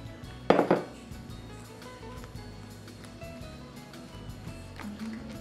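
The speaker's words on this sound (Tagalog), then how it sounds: "Haluin maigi para maalis ang pamumuo." Coconut milk mixture stirred in a pot for inutak, one sharp metallic clank of the spoon against the pot followed by soft, quiet scraping and a faint background hum.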